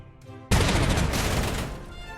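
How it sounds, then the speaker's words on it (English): Anti-aircraft guns in Panzer Corps 2 open up with a sudden loud blast that holds as a dense, sustained burst of gunfire for over a second before slowly fading, close and alone. "Oh, these anti-aircraft guns are so unbelievably vicious."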